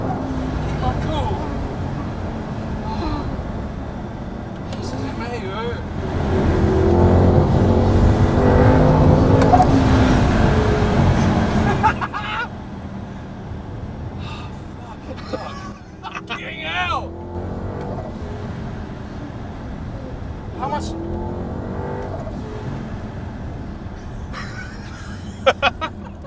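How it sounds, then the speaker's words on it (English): A twin supercharged 750 hp Audi R8 accelerating hard with wheelspin in third gear, a loud engine roar that swells and holds for several seconds before easing off, with people talking excitedly over it. "It's wheel spinning in third."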